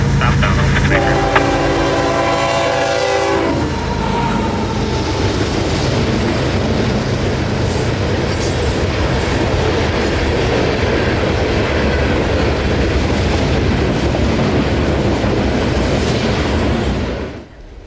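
CSX coal train on the S-Line sounds a loud multi-tone horn blast for the first few seconds, then rolls past with a heavy continuous rumble and rail clatter until it cuts off abruptly near the end.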